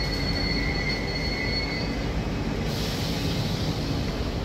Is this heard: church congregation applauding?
no